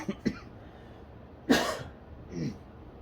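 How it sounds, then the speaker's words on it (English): A few short coughs and a throat-clearing sound, spaced out over a quiet background, fairly close. "coughing again"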